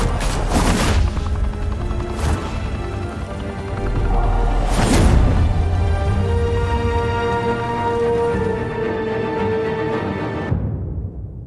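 Video game gunfire from Batman The Telltale Series: bursts of shots crack over a steady noisy backdrop, with a few loud impacts standing out before the sound cuts off abruptly.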